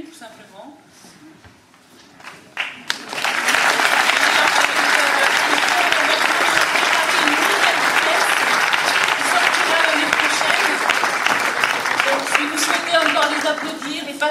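Theatre audience applauding after a stage comedy performance, sustained loud clapping from a full crowd that swells in abruptly and carries on steadily, preceded by a few seconds of quiet murmuring and speech.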